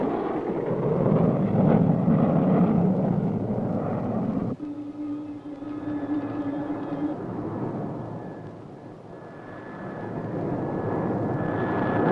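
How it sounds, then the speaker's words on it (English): A spaceship settles onto a landing pad with a loud, sustained rumbling roar that briefly cuts into a steadier humming tone before the rumble swells again, with no talking. "Space Angel just landed in the Starduster."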